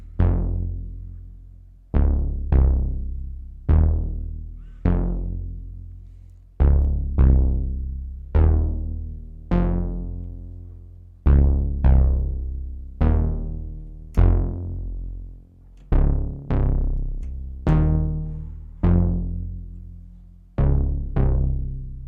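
A Vermona Perfourmer Mk2 analog synthesizer, with its third oscillator layered in, plays a deep bass line of separate decaying notes in an uneven pattern, moderately loud and alone.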